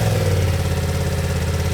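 A BMW F 900 R motorcycle engine runs at idle with a steady close, even rumble after starting, no speech.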